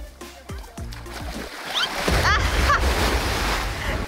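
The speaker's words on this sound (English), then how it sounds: "Ride the waves." Ocean waves wash and surge along a Hawaiian shore, building into a loud churning rush after a few seconds, with splashing and brief voices mixed in.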